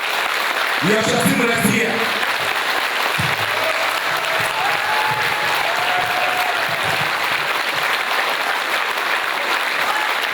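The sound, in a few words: audience applause at a congress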